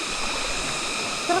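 Rushing river current at Tinipak River, a steady broadband wash of moving water close by, unbroken through the moment with faint voices in the background.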